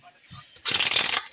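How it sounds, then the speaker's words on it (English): A deck of cards being shuffled up close: a brief riffle burst of rapid, papery flutter lasting about half a second, preceded by quiet handling sounds. "before I start shuffling"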